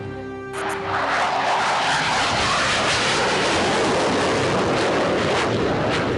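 A Tejas fighter jet roars overhead, a loud, steady broadband rush that swells in after a brief quieter start and holds strong to the end.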